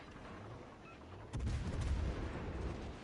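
Warship guns firing in World of Warships Legends, a sudden deep booming blast followed by a rumbling roll of gunfire that fades slowly, moderately loud with no talking over it.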